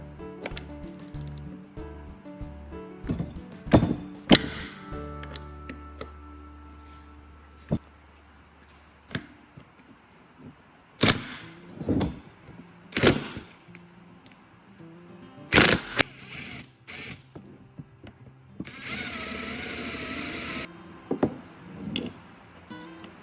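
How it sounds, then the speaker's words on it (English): Tight fine-thread bolts are worked loose on a failed transmission, with scattered sharp metallic clanks and knocks of tools in bursts between quieter stretches, close by and without speech. "let's undo these first"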